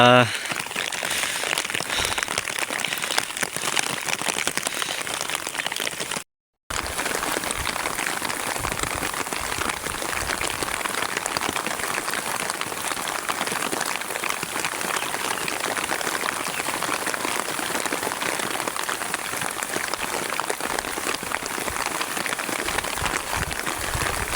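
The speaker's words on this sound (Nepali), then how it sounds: "पानी परिरहेको छ यता है" Rain falls steadily in a village, a dense, even patter on surfaces that continues almost without pause, with a brief gap early on.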